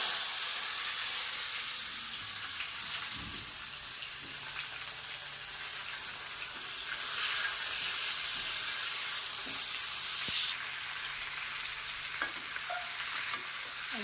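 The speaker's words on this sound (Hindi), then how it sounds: "अजवाइन के साथ अच्छे से तेल में फ्राई कर लूँ" Raw mango pieces and ajwain frying in hot oil in a home kitchen pan, a steady sizzle with occasional stirring scrapes, close and continuous with no talk.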